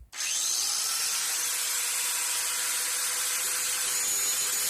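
A cheap Harbor Freight angle grinder sharpens a steel lawnmower blade clamped in a vise, spinning up at once into a loud, steady high-pitched grinding whine that holds alone for the whole stretch.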